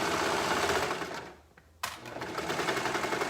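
A sewing machine stitches binding onto fabric with orange thread, running steadily and close, then pausing briefly before resuming its fast, even whirr.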